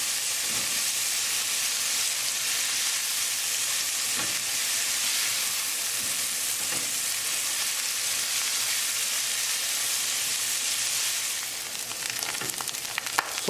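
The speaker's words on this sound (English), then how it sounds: "Saute it for 3 minutes." Pre-cooked protein salad ingredients sauté in a hot pan, giving a dense, even hiss that runs steadily with a few faint stirring scrapes and eases slightly near the end, close up with nobody speaking.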